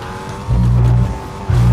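A car driven in the video game IO Executioners gives a steady engine hum that surges louder twice, with a low drone rising and holding, loud and close.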